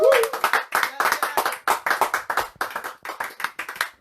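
Congregation at a church service clapping in a steady rhythmic beat, many hands together, loud and close, with voices faintly mixed in.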